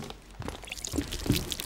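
Rainwater poured out of a container, a brief uneven splash and trickle of liquid lasting under two seconds, fairly quiet with no voices.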